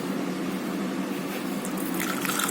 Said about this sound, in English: In this 2 teaspoon of coffee, I will pour my hot water, boiling water.